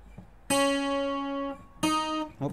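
Two slow, sustained plucked notes on a requinto guitar, each ringing clearly for about a second, from the lead part of a song, close and unaccompanied.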